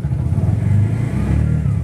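A Bajaj auto rickshaw engine runs just after starting, giving a loud, close, steady low rumble with an even, throbbing idle that holds for the whole moment without a break.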